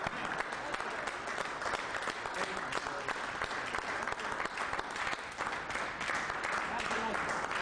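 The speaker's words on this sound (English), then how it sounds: "One more time, let's have a round of applause for Bill Thornton." An indoor audience at a common law lecture breaks into sustained applause, a dense, even patter of many hands clapping at moderate volume for nearly eight seconds without a break.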